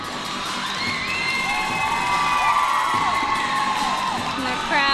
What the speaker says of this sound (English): And the crowd getting excited for Jillian Winstanley.